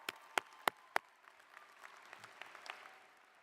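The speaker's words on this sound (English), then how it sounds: "Graduates, give yourselves a round of applause." At a spring graduation ceremony, four sharp, loud claps ring out close by, then give way to faint, sparse clapping from graduates further off.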